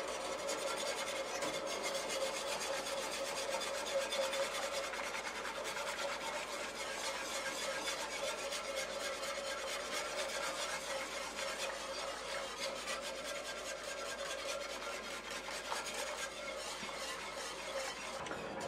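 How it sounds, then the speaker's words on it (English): Sorrel (roselle) jelly with pectin stirred in a pot on the heat, a continuous scraping and rubbing with a steady faint hum underneath, close and unbroken, no voices. "We're just going to continue stirring it, and then we're going to shut the heat off."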